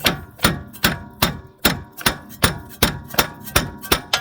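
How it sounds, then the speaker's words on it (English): About a dozen sharp metallic strikes of one hammer against a second hammer ring out in a steady, even rhythm, each loud clang decaying quickly before the next, while loosening an inner tie rod on a 1997–2001 Toyota Camry. "So you take one hammer and a second hammer"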